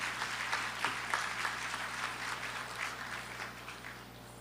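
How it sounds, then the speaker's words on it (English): An audience at the Agri-Investment Forum and Expo 2023 applauds as performers come on stage. The clapping is steady and dense, filling a large room, and fades a little toward the end with no talk over it. "Let's give them a round of applause as they come on stage."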